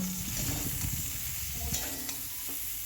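Cauliflower pieces frying in hot oil, a dense continuous sizzle with faint stirring scrapes, close and steady throughout the short stretch.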